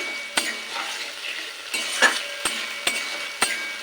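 Onion and capsicum stir-fry in sauce for chilli chicken, a low sizzle broken by regular sharp clacks of a spatula against the pan, close and moderately loud with no voices.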